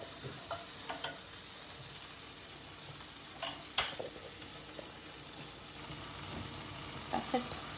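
Vegetables stir-fry in a pan with a soft, steady sizzle and scattered light clicks and scrapes of a utensil stirring them.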